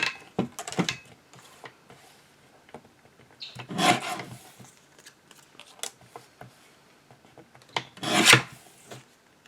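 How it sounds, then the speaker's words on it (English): Very thick cardstock for a handmade card is cut in a few separate strokes, each a rough, rasping crunch, close and fairly loud, with quiet stretches between them. "This is very thick cardstock on this card. It's really hard to cut."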